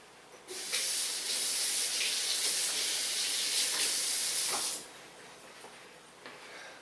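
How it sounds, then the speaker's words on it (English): A kitchen tap runs in a strong, steady hissing stream for about four seconds while a knife is rinsed under it, then shuts off, leaving faint clinks and room noise. "I rinse my knife because I always do that."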